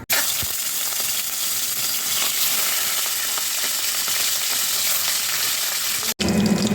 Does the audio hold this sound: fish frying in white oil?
yes